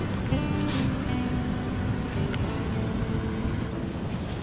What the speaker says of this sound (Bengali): ওটা নদীর স্রোত এবং ঝর্ণার জলের আওয়াজ।